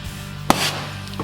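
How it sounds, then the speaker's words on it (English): Brake caliper piston pops loose during a caliper rebuild, a single sharp, close pop over faint workshop hum, followed by a brief light knock. "that pop is what you heard there was one of the pistons coming loose"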